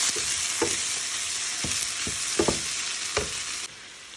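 Food frying in a pan with oyster sauce, stirred by hand for a simple home dinner: a steady hiss of sizzling oil with several distinct scraping strokes of the utensil, close and fairly loud, no talking.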